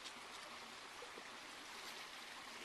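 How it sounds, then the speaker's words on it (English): Outdoor stream of bubbling, gurgling water with a footbridge nearby, a steady, dense rush of flowing water throughout, fairly close, with no voices. "just look at this beautiful bubbling, gurgling stream here"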